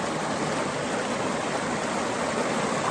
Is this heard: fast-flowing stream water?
yes